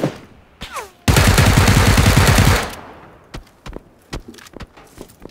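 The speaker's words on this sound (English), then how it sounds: "I think I'm getting shot" Loud burst of automatic gunfire in PUBG lasting about a second and a half, followed by scattered single shots and thuds, with distant sharp cracks and no voices.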